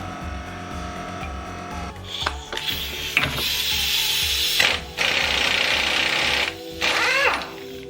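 Clicking ratchet and metallic mechanical work on the central drive shaft nut of a Volkswagen Golf Mk1, a steady close series of clanks and ratcheting bursts with brief pauses between efforts, no talk.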